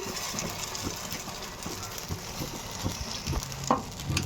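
Coconut pitha for Lakshmi Puja frying in hot oil in a home kitchen, giving a soft, steady sizzle with occasional faint clinks, fairly quiet and without speech.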